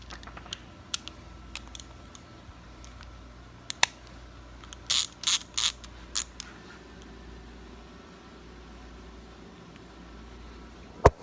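A ratchet with a socket works on a Yamaha YFZ450 engine, making a quick cluster of sharp metallic clicks in the middle of a quiet workshop stretch. A few isolated taps and clacks come before and after.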